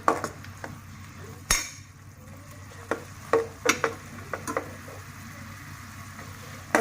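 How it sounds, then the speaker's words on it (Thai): Pork skin cooks down in pork broth in a pan, a soft bubbling simmer broken by sharp scattered clinks and scrapes of a utensil against the pan, close and quiet, with no talk. "เราเคี่ยวไปเรื่อยๆเนาะให้น้ำมันแห้งหน่อยๆนะคะ"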